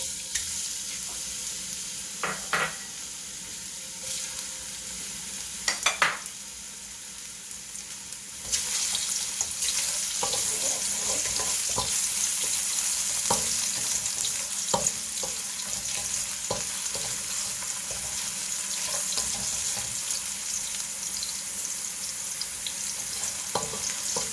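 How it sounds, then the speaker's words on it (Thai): Steady sizzling of dried shiitake mushrooms frying in oil in a hot pan, with occasional scraping and clacks as they're stirred; no one speaks. "เห็ดหอมแห้งของเราเนี่ยลงมาผัดให้เข้าหอมเลย"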